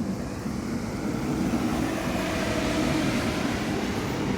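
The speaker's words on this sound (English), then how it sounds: "Is there a train coming right now?" A train rolls along the tracks in Krakow, Poland, a steady, loud broadband rumble with low clattering that holds evenly throughout, no voices.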